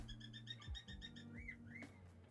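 A pet bird gives shrill, repeated chirping calls and squawks, fairly quiet and close, with a few sharp screeches toward the end.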